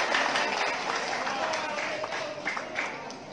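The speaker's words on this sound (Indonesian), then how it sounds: "tepuk tangan" People at a police station's communal fast-breaking and thanksgiving gathering give a round of applause in appreciation of the police officers, a diffuse, roomy clapping with voices mixed in.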